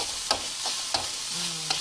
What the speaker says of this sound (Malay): kita goreng-goreng atas tu hingga ayam masak dan berubah warna